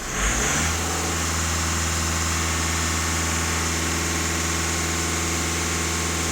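A VW Caddy 1.6 TDI diesel engine climbs quickly from idle and holds steady at about 2500 rpm, a close, loud, even drone with no talking.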